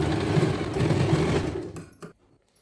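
A sewing machine runs in a steady, fast whirring burst while stitching a langa voni jacket, then stops, followed by a couple of faint clicks and handling sounds.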